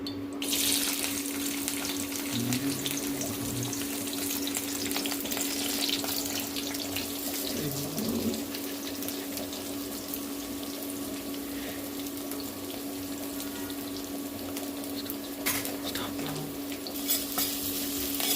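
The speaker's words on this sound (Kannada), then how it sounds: "ಈಗ ಈರುಳ್ಳಿನ ಚೆನ್ನಾಗಿ ಫ್ರೈ ಮಾಡ್ಕೋಬೇಕು" Continuous crackling sizzle of onions frying in hot oil in a pan, with occasional stirring scrapes and a faint steady hum behind it.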